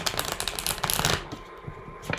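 Tarot cards are shuffled by hand in quick, crisp bursts of riffling and slapping for about a second, then the sound falls off into softer, scattered card taps.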